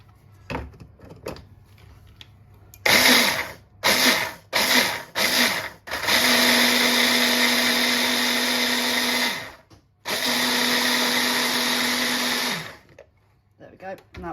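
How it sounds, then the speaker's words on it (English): A kitchen blender grinds food into a fine powder in several short loud pulses, then runs for two long steady bursts with a brief pause between them, close and loud. "chuck it in the blender. Blend it to a dust and it'll stop that lumps forming."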